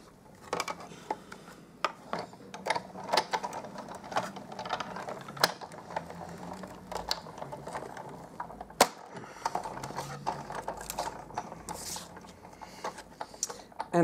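A Big Shot die-cutting machine feeding card through its rollers, giving steady mechanical clicking and ratcheting with sharp ticks scattered over about fourteen seconds, close and moderately quiet.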